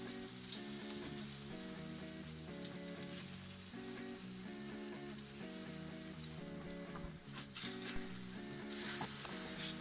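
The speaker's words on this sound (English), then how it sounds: "carefully place the diced plantain into the heated pan" Diced plantain sizzles steadily in a heated pan, a continuous soft crackle running the whole time beneath a layer of sustained musical tones, with no talking.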